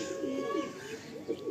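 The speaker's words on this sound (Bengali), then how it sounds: "এটা মাদি পায়রা, খুব সুন্দর একটা হেডসেট শেপের মধ্যে রয়েছে," A pigeon in a Salt Lake loft gives repeated low, rolling coos at close range. The calls wobble in a steady rhythm over a faint background hum.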